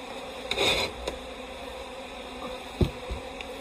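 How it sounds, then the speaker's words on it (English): Honey bees buzz around a heavy hive frame stocked with stores during a beekeeping inspection, with a few brief near buzzes over a low, steady hum. "The bee just dropped on my leg."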